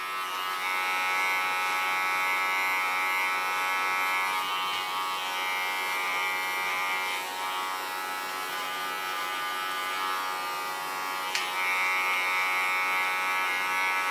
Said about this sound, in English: take a clipper, lay my comb into the line of the hairs